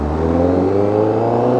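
Honda CBR1000RR-R Fireblade SP sportbike engine after a reflash, a loud close steady high-rev drone with strong harmonics, alone.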